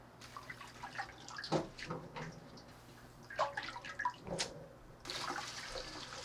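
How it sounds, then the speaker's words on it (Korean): Blanched chili pepper leaves rinsed in cold water, splashing and dripping in uneven bursts with short pauses between handfuls, fairly quiet and close, with no speech. "찬물에 넣어서 헹궈주면 되거든요. 그러면은 이거를 이제 헹궈 보도록 하겠습니다."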